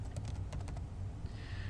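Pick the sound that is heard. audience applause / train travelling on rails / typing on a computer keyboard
typing on a computer keyboard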